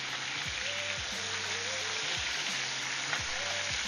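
Liver pieces frying in hot oil make a dense, continuous crackling sizzle at close range, steady throughout, with a low hum and faint tonal sounds in the background.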